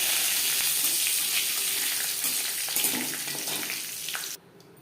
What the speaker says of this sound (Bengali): জিরে ভেজে নেওয়ার পর